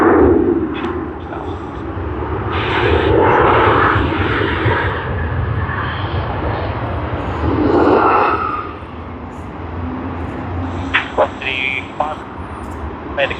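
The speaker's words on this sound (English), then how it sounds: "let us look at Malaysia Airlines, the A330-900. Just arrived and it's taxiing to the terminal" A Malaysia Airlines Airbus A330-900 taxis to the terminal at Sydney Airport, its engines giving a steady broad rumble and whine at a distance, with people talking over it throughout.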